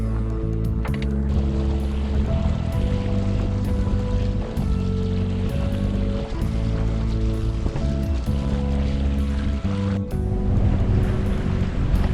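A sailboat motoring out of a sheltered cove into open ocean swell, with a steady engine drone and hum, water rushing and slapping along the hull, and wind noise, continuous and close throughout.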